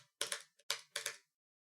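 Five quick presses of a computer keyboard's spacebar, close and crisp, in two uneven clusters with short gaps between.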